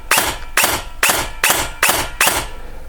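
Six sharp gel blaster shots from a T238 airsoft blaster with a mosfet, fired one at a time on semi-auto at a steady pace, each a loud close snap with a short mechanical tail, no talking.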